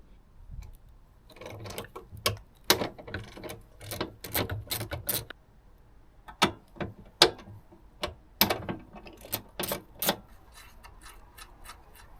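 A ratchet clicks in rapid bursts while loosening bolts on a Mazda MX5 ND strut tower, the runs separated by brief pauses and occasional sharper clanks, close and fairly loud with no talking.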